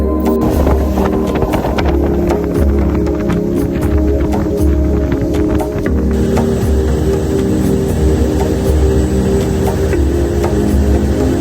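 A motorboat carries passengers toward Pulau Ketam island in Malaysia, its engine droning loudly and steadily with wind buffeting the microphone and water rushing throughout.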